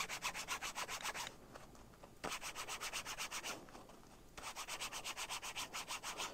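Gloved hands rub a dreadlock extension in quick, steady back-and-forth strokes, a close, dry scratching rasp that pauses twice before resuming.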